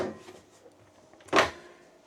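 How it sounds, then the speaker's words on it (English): A slide-out freezer drawer in a 2026 Grand Design Lineage 31ZW RV bumps shut in a single muffled thud near the end, after faint quiet handling sounds. "And of course your slide out freezer drawer"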